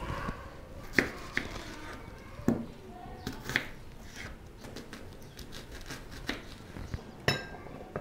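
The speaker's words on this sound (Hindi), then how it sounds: "तब तक साथ हम थोड़ी सी सब्ज़ी काट लेते हैं" A knife chops vegetables on a board while macaroni boils for a chaat, with scattered, irregular sharp taps and occasional clinks, close and fairly quiet over a low background hiss.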